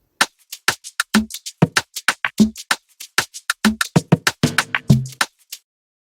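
A second shaker loop layered into a modern dark Afrobeats drum pattern built in FL Studio, giving a steady run of crisp, bright shaker hits with occasional low thumps underneath, playing alone without talk.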